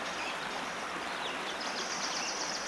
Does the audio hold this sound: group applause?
no